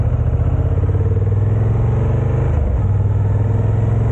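A 2025 Honda CB 750 Hornet ridden in city traffic, its engine holding a steady low drone close by with a rapid, even pulse and a brief dip midway through.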